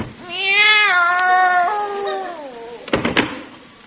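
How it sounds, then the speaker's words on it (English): A cat shut inside a drawer meows once, long and loud with a wavering, drawn-out pitch, followed by a few sharp knocks or rattles. "There's nothing in there but a cat."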